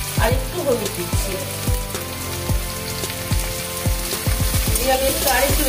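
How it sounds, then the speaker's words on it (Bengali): Sweet potato pieces frying in a pan with salt and turmeric, a loud continuous oily sizzle with repeated scraping stirs throughout, close up and without speech. "এবার আমি আলুগুলো একটু ভেজে নেব।"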